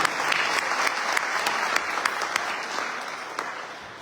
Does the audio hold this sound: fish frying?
no